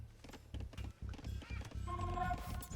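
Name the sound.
scout cavalry horse in Age of Empires video game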